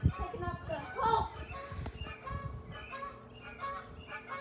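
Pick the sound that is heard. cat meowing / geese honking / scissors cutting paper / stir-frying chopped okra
geese honking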